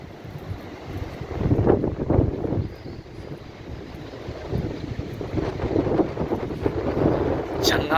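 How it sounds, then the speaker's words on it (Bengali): Strong wind buffets the microphone outdoors in Constantine, Algeria, a loud rumbling roar that swells and eases in gusts throughout. "এত জোরে বাতাস, এত জোরে বাতাস"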